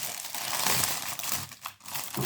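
Plastic A4 zip-closure pouches crinkle and rustle loudly while being handled, with a continuous close-up crackling texture that dips briefly near the end before resuming.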